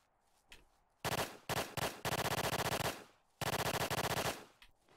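Automatic gunfire in the zombie survival game Apocalypse Rising comes in loud, close bursts that start and stop abruptly, several rapid stuttering volleys separated by short gaps, with no talk over them.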